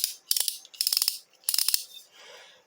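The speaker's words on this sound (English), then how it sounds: "a little stamped steel ratchet with a double ball bearing drive" A small stamped steel ratchet with a double ball bearing drive clicks rapidly in three quick bursts of close, crisp ratcheting, followed by a softer scraping rustle.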